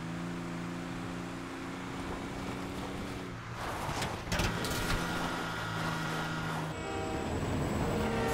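A train rolls past in Grand Theft Auto V, its steady mechanical rumble joined by tonal horn-like blasts that fade and then return. The sound is loud and close, with no speech.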